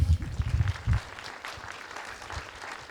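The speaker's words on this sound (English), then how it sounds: "Let's give another round of applause." An audience gives a round of applause at the Macfest 2020 opening ceremony at the British Muslim Heritage Centre, a soft, fairly distant patter of clapping that fades after a low rumble at the start.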